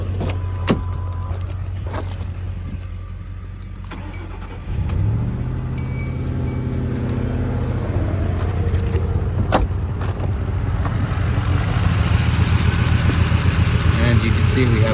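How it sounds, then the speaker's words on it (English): A 2006 Mercury Grand Marquis cranks and starts partway through, then settles into a steady, close idle; faint clicks and small handling noises come before the start, with no talking. "Now we're going to start it."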